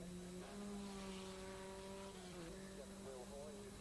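A Sports 2000 race car rounds the Park hairpin at Donington and crosses the finish line during the 1984 British Sports 2000 Championship; a steady engine drone sits beneath an announcer's voice.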